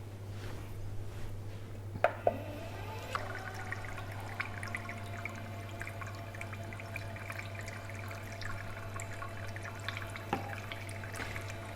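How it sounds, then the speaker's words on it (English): Running water from a bath mixer tap pouring into a tub, a steady soft rush with a few small splashes and clinks near the start, over a constant low hum. "We'll put the mixer on to replicate running bath water"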